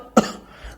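A man in a village during hot summer weather gives a single short, sharp cough, close and loud, as if clearing dust from his throat, followed by a brief quiet rasp.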